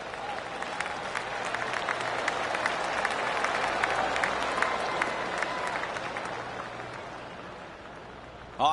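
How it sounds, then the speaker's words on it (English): Golf gallery applause in the PGA 2K25 video game swells and holds as a steady spread of clapping from a crowd around the course, moderately distant, tapering near the end with faint voices beneath. "Oh, I can hear the golf claps around the course."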